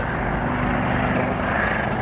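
Wildcat military helicopter climbing at the Cosford air show, its powerful engines giving a loud, steady rotor and turbine roar with a low droning hum, continuous and fairly near.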